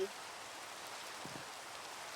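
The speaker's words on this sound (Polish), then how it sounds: "O nie, deszcz." Soft, even rain falls in Minecraft, a faint steady hiss running throughout with a brief low murmur near the middle.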